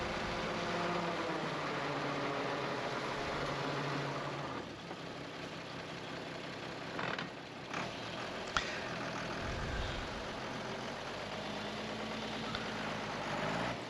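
A dump truck's diesel engine idles and rumbles steadily while land is being regraded in Trinidad and Tobago, with a few brief clanks and knocks partway through.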